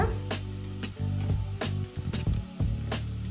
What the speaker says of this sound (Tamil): வதங்கட்டும் வெங்காயம் வதங்கி கொண்டிருக்கு